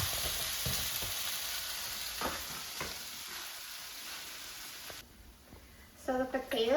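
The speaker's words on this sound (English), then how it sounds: "So the potatoes have been pan frying for 20 minutes" Potatoes pan frying in a skillet give a soft, continuous sizzle with occasional stirring scrapes and clatters, and a voice begins talking near the end.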